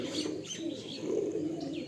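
Kalsira pigeons coo softly and close by in a short, low burble, with faint chirps mixed in.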